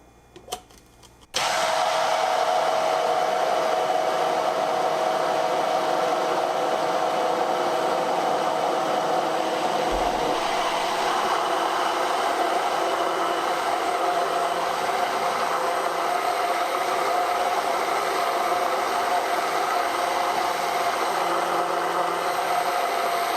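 KitchenAid 2-speed hand blender whipping cold heavy cream on speed 2, a steady motor whir that starts abruptly after a few light clicks and keeps running loud and close for over twenty seconds.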